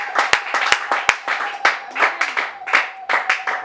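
A church congregation claps in a loose, irregular burst of hands, some sharp single claps standing out near and loud, with a voice talking over the applause.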